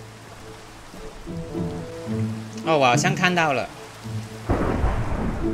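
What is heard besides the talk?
rain and thunder in the video game Minecraft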